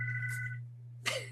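A telephone gives a single short electronic ring over a steady low hum, then cuts off, followed by a brief clatter as the handset is picked up.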